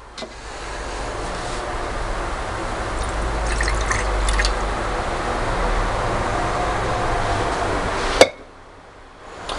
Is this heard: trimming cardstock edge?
no